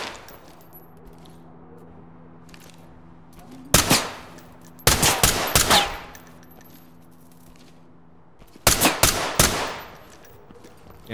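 Gunfire in the tactical shooter Ready or Not comes in three sharp bursts of rapid shots, loud and close, separated by quiet pauses.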